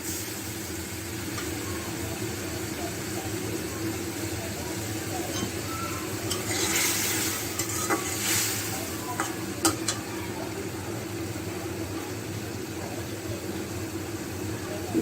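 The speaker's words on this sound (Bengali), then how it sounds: "মশলাটা কষানো হচ্ছে" A spice paste of ginger, garlic, turmeric, chili powder and cumin being sautéed, a steady sizzle with stirring scrapes and a few sharp clinks, under faint background noise.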